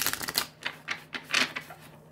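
A deck of tarot cards is shuffled close by in a run of quick, crisp riffling taps and flutters, with brief gaps between bursts.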